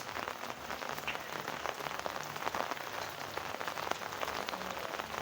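Steady rain falls outdoors with a continuous soft hiss and scattered drop patter, even and fairly quiet throughout.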